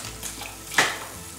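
Tagliatelle are dropped into a hot pan, setting off a sudden short burst of sizzling hiss over a quiet background of gentle frying.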